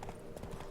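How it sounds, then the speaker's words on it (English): Horse hooves clip-clopping in the video game The Witcher 3: Blood and Wine, a quick steady run of hoof beats close up and fairly loud, with no talk over them. "He's a bloody horse. He can move fast."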